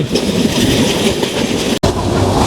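Joyantika Express passenger train speeding between Dhaka and Sylhet toward Sreemangal station, a loud steady rumble with rhythmic clickety-clack of wheels on rail joints, broken once by a split-second dropout.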